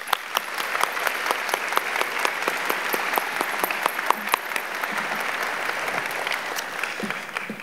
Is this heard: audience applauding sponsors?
yes